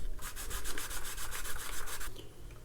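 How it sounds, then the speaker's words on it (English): Back-and-forth scrubbing as alcohol lifts sticker residue off a desk, a steady run of rapid rubbing strokes for about two seconds, fairly close and moderately loud, ending abruptly. "Let's see how alcohol cleans this up. Yeah, it's coming off pretty good. So I'm just gonna scrub this down."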